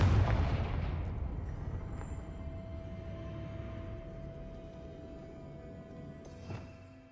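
A Confringo blasting spell going off in Hogwarts Legacy: one loud booming explosion at the start whose rumble slowly fades into a long, dwindling tail, with a faint steady tone and a small crackling pop near the end.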